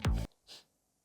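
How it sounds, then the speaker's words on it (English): A quick, sharp sniff through the nose, followed a moment later by a softer breathy inhale, close and quiet, as someone smells a marker. "Don't sniff marker, I'm doing a test."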